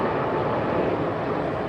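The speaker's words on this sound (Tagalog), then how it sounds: "Ayun na ang eroplano, ang gulong ng eroplano." A passing airplane with its landing gear lowered makes a steady, broadband roar that holds at an even loudness throughout, with no speech over it.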